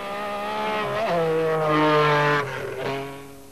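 Group B rally cars, including a Lancia Delta S4, an MG Metro and Peugeot 205 Turbo 16s, race at Pikes Peak, one engine loud and near with rising and falling revs and shifts across the run, ending as the car pulls away.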